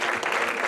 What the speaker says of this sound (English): Why don't we clap our hands to Jesus one more time?